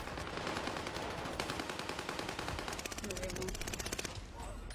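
Rapid automatic gunfire from a video game firefight, dense bursts of loud shots running almost continuously, with players talking faintly beneath the shooting.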